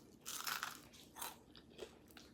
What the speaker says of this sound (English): And I know y'all hear that crunch.